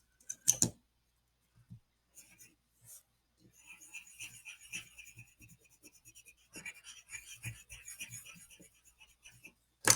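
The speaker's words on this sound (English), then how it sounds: "I'm actually mixing with the colored pencil." Colored pencil scribbling and rubbing on paper, blending blue-green, in quick irregular scratchy strokes, close and fairly quiet, with a few louder taps and pauses between bursts.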